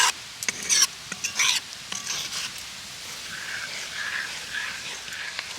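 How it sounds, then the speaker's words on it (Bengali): Chhena being stirred with nolen jaggery in a pan for sandesh makes a soft, close sizzle, with a few scraping stirs at the start that fade into steady gentle frying. "এইভাবে ধাপে ধাপে গুড়টা দিতে হবে আর ছানার সাথে সুন্দর করে মেশাতে হবে"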